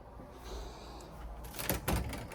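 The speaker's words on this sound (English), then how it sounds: "they've got the same super cheap sliding doors back here" A cheap sliding closet door in a bedroom scrapes faintly along its track under room hiss, then ends in a couple of soft knocks and a low rolling thud.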